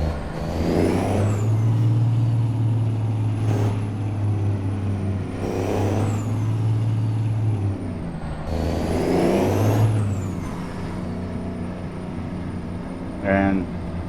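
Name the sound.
Caterpillar truck engine in a video game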